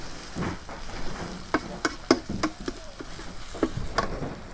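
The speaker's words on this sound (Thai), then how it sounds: "ผัดให้หอม ผัดให้หอมเลยนะจ๊ะ" Stir-frying in a pan until fragrant, a low sizzle under a series of clicking spatula scrapes and taps against the pan, close and irregular.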